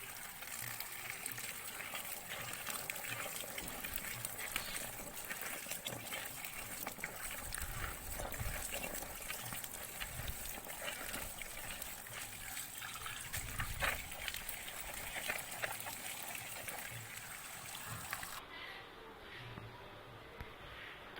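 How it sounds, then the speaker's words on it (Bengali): Running water washes freshly chopped young jackfruit for a Bengali curry, a steady broadband splash and trickle lasting throughout, fairly close and continuous, with a brief quieter dip near the end. "ইঁচড়গুলো কাটা হয়ে গেছে, এবার ধুয়ে নেওয়া হচ্ছে"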